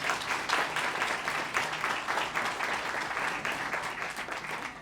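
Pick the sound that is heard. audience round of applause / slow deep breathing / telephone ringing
audience round of applause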